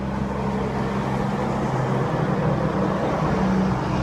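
A garbage truck passes outside, a steady low engine rumble and road noise that holds at a constant level throughout, heard from a short distance with no talk.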